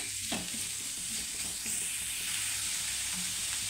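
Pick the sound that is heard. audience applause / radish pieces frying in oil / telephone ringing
radish pieces frying in oil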